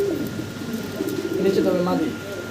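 A pair of big fancy pigeons coo in soft throaty bursts close by, their rolling calls swelling midway, with a voice talking over them.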